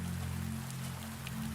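Steady nighttime rain patters softly and evenly over a low constant hum, with no voices.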